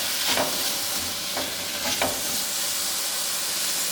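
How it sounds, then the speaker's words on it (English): Tofu sizzling and frying in a pan with a steady hiss, broken by a few louder bursts of crackle as it is stirred and turned. "I have the tofu going. I can hear the sound."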